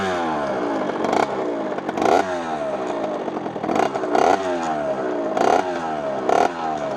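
A 70cc Top Noir kitted moped engine fires up and runs, a loud buzzy two-stroke note that rises and falls in repeated surges, with rattly clatter breaking in at regular intervals, close to the listener.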